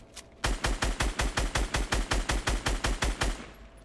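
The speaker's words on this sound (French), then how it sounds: "Avec le lance-grenade qui fait comme son boulot." A grenade launcher fires in the video game Fortnite, a rapid, evenly spaced run of about fourteen loud, punchy shots lasting around three seconds, with no voices.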